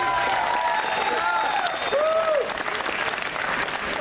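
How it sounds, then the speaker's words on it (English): Audience applause after a hard-fought three-round event, steady clapping from a crowd with a few whoops and whistles over it. "Give them both a big round of applause."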